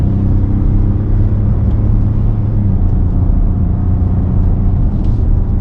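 A 2021 Ford F-150 PowerBoost hybrid pickup pulls a boat trailer, a loud, steady low engine and road rumble droning continuously from inside the cab with no talking.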